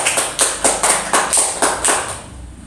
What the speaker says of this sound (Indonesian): Tepuk tangan dulu dong untuk semuanya